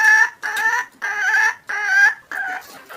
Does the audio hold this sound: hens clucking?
yes